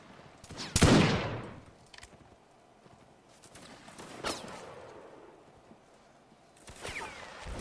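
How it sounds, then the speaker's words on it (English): Scattered musket shots in the Napoleonic Wars setting of Mount & Blade: one loud close volley crack near the start, then sharper distant reports and faint popping, with quiet gaps between. "all the bullets just rattling around all over the place"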